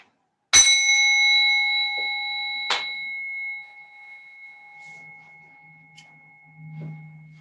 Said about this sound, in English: you'll hear the sound of the bell to come out of the pose.